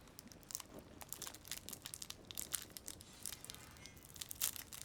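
Crinkly tearing and crumpling of a blue raspberry cough drop wrapper, a steady run of small close crackles and rips lasting several seconds, fairly quiet with no talk over it.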